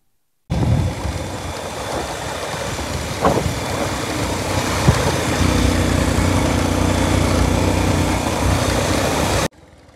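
A car drives steadily with a continuous engine and road hum, close and fairly loud, with no talking, as it pulls out and makes a U-turn on a road toward Korob Pahar in Bankura.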